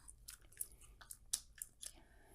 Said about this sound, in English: If y'all heard me chewing gum, don't mind me.